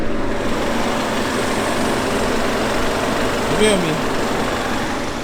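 A BMW G20 330i engine idles with the hood open, a steady low rumble running throughout while someone speaks briefly over it.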